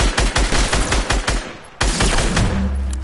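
Loud automatic gunfire in a video game fires in rapid bursts close up. After a short pause it resumes as a dense volley, with no speech.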